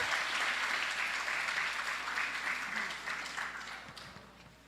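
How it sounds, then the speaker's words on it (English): An audience applauds top-performing CSEC and CAPE scholars at an awards announcement, with sustained, dense clapping from a large crowd at moderate distance that gradually tapers near the end. "Keep clapping, audience, while our scholars stand."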